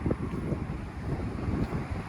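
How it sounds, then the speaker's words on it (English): Steady wind ahead of a brewing storm buffets the microphone outdoors during pressure washing, a low, continuous rumble and gusty roar, no voices, lasting a couple of seconds. "And it's pretty windy, we got a storm brewing in"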